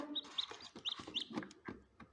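High, thin peeps from a newly hatched chick taken from an incubator repeat in quick bursts close by, with soft rustling and handling noises underneath.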